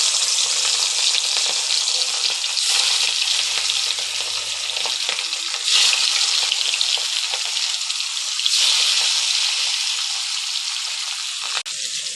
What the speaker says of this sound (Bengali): তেল আমাদের খুব ভালো করে গরম করা হয়ে গেছে। এবার একে একে আমরা মাছগুলোকে ছেড়ে দেবো।